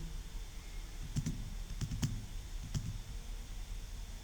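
Computer keyboard typing while entering a table name into a spreadsheet, heard as a few sparse clusters of quick key clicks over a steady low background hum, fairly close and quiet, with no talking.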